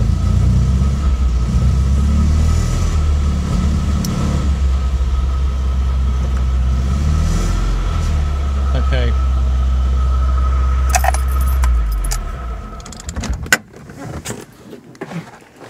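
MGB GT car engine running steadily while gears are changed, a loud continuous mid-pitched drone that cuts out near the end into clunks and rattles.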